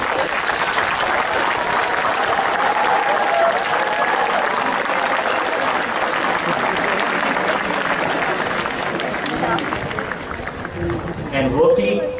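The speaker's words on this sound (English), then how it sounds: "I would like all of you to join your hands once again to give a round of applause to all the students." A large audience at a school Founder's Day parade and address gives the students a long round of applause, loud and continuous, with crowd voices mixed in and talk rising near the end.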